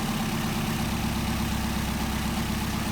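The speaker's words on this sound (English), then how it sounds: "See the idle dropping off." Engine fitted with a Solex carburettor idling loud and close with a steady low rumble, running on with no voices while the idle mixture is adjusted and the idle drops off.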